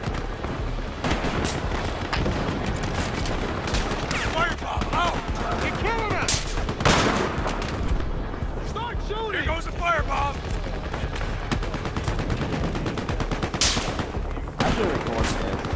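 Battlefield: Hardline multiplayer gunfire on PS4 crackles in near-continuous volleys, with sharp individual shots and booming blasts stacked over one another throughout.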